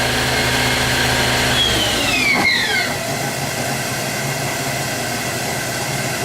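A Haas TL-25 CNC lathe from 2005 with a 10-inch chuck, its spindle running with a steady loud broadband whir and hum, a tone sweeping down as speed changes partway before settling into constant machine noise.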